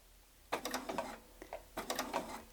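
A sewing machine stitches through KraftTex paper fabric while sewing a scissor sheath, running in two short bursts of rapid mechanical clicking separated by a brief pause.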